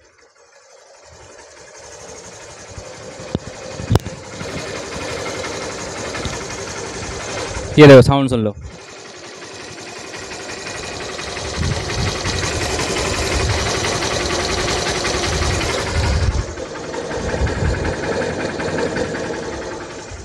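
A Hero Igniter 125cc motorcycle engine idling smoothly after a clutch plate change, with an even, steady chug. Someone talks over it, and a brief louder clatter cuts in partway.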